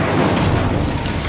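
Incendio fire spell cast in the video game Hogwarts Legacy, a single short, loud booming blast that fills the moment on its own.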